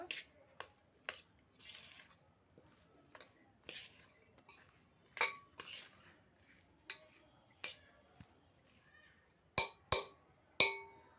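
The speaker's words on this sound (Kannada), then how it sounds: "ಇವಾಗ ಎಲ್ಲವನ್ನು ಈ ಥರ ಒಂದ್ಸಲ ಮಿಕ್ಸ್ ಮಾಡ್ಕೊಬೇಕು" Ingredients for garlic kebabs are mixed in a bowl, giving faint, irregular clinks, taps and soft wet handling sounds with quiet gaps between them, growing a little sharper and louder toward the end.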